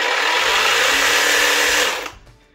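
A Parkside Performance PPSSA 40-Li A1 40 V cordless reciprocating saw runs at a steady high buzz for about two seconds, then winds down and stops.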